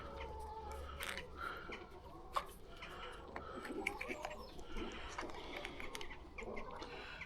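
Backyard hens cluck and murmur softly at close range outdoors, with scattered sharper bird calls and light rustling over a quiet low background hum.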